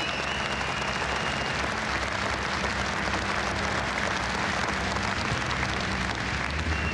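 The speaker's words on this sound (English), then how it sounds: "Well, an extra round of applause for Will Gollop, because that was one of the" Arena crowd at the 1995 Autosport International Live Action Arena applauding after a rally car run, a continuous, dense roar of clapping that holds level throughout without speech.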